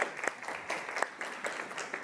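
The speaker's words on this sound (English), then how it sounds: "Let's have a round of applause for our volunteers." Brief applause from a classroom audience for volunteers: a short burst of scattered, fairly quiet clapping, with a few distinct sharper claps standing out over about two seconds.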